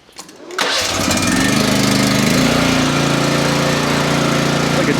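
A small Chinese mini skid steer engine cranks and catches in cold weather, rising into a steady, loud, close running chug that holds for several seconds.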